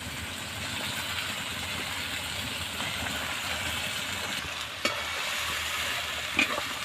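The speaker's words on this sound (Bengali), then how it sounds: "এইভাবে আমি মশলা মাখিয়ে নিচ্ছি" A whole chicken gets turned and coated in a thick frying masala for Bengali chicken kosha, with a constant close sizzle, soft stirring scrapes and an occasional sharp clink of a utensil on the pan, with no voice.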